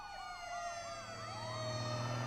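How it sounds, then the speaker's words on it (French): Fire engine siren wailing in repeated rising and falling sweeps, loud and steady throughout over a low engine rumble, with no talking. "C'est les pompiers!"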